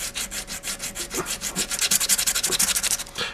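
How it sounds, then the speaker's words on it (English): A flat sheet of heavy-grit sandpaper rubbed in steady, rhythmic back-and-forth strokes over a metal model tank part, close and clear, speeding up slightly toward the end with no talking. "I'll just take a flat sheet of sandpaper and just rub it. And this is pretty heavy grit sandpaper."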